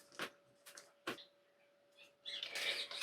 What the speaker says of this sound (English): You can probably hear the birds outside.